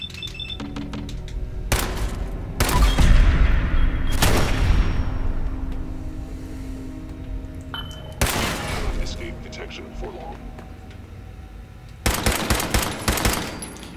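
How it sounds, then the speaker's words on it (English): Gunfire aimed at synths in Fallout 4, with rapid bursts and single heavy shots in several clusters and reverberant booms trailing off between them, loud and close. "Are these synths seriously not realizing that I'm shooting them?"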